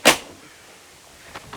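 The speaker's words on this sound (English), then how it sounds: "let's shut the doors back up" A door on a restored 1976 Toyota FJ40 shuts with one loud close thud at the start, followed by quiet and a couple of faint clicks near the end.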